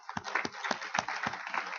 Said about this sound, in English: So I'd just like to thank Douglas for their support with a short round of applause.